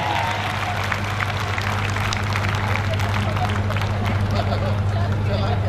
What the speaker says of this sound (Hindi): एक बार तालियां बजाइए